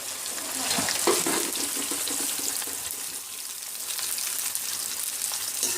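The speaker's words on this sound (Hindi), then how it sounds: "अब इसको हम अच्छे से फ्राई करेंगे जब तक ये लाइट ब्राउन नहीं हो जाती" Okra (bhindi) frying in hot ghee gives a steady, dense sizzle and crackle throughout, close and even, with no talking.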